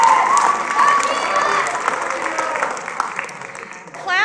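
A graduation ceremony crowd at Choice High School bursts into applause and cheering, a dense wash of clapping and whoops that swells and then tapers, with a few shouting voices.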